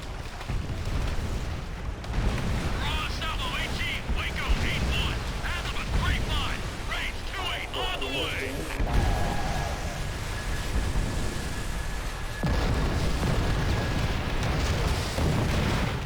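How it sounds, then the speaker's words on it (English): Heavy artillery barrage from the Pacific campaign of the World War II shooter Call of Duty: World at War, with dense rumbling booms and blasts rolling continuously under a radio operator's voice and battlefield chatter. "I'd be remiss if I didn't mention the audio design of the barrage"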